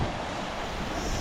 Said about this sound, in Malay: keadaan laut hari ini ada sedikit naik ombak dia